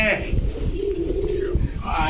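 A pigeon coos in a low, soft, drawn-out call nearby while people talk over it.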